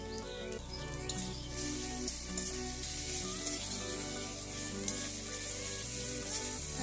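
Spices fry lightly with turmeric and salt, giving a soft, steady sizzle under faint tonal background sounds, with a single brief clink and no speech.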